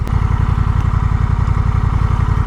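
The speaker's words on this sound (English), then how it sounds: "I love the sound of this bike." A Honda Rebel 1100 motorcycle with its stock exhaust runs nearby, giving a loud, steady, rhythmic low rumble that pulses evenly throughout with no talk.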